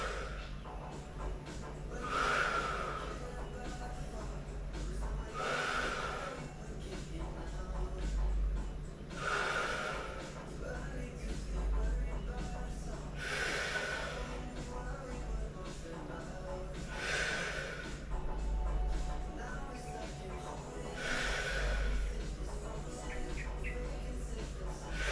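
Heavy rhythmic breathing during a Pilates abs workout, about six strong exhalations spaced a few seconds apart over steady background music, close and fairly loud.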